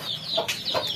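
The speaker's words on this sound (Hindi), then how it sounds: "सिर्फ यहाँ पे हमारी बच्चे वाली मुर्गी है" A mother hen with chicks clucks in a farmyard lane, a few soft repeated clucks close by, alone with no talk.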